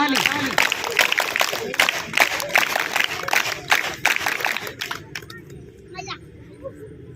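A crowd claps in a dense burst of applause at a girls' camp closing ceremony, fading after about five seconds, leaving a quieter room with a faint high tone.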